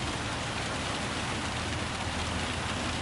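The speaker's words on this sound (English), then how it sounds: "Murky weather, rain, forest, middle of nowhere." Steady, dense rain from a Gran Turismo 7 race in murky weather through a forest, a continuous broadband hiss of falling drops and surface splashes with no talk over it.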